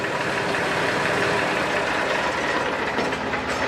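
A 50 HP tractor, 2015 model, idles at a second-hand tractor market. It gives a steady, rough, knocking engine rumble, close and fairly loud, with no speech over it.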